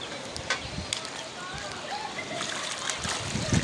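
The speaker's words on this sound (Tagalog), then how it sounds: "nasampay yung tubig pagka pumapalo ng alon" Seawater splashes and sloshes against a seawall as waves strike, a steady wash of water with brief splatters close by, and a faint voice beneath it.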